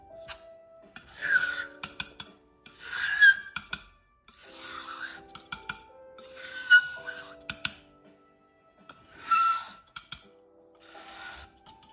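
Homemade pearlescent watercolor paint scraped into a small pan, heard as six repeated raspy scraping strokes with short pauses between them, close and fairly quiet, with no talking.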